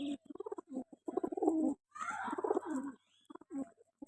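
Fulshira and Kalshira pigeons coo in a loft, several soft throaty rolling calls close by in short bursts separated by brief pauses.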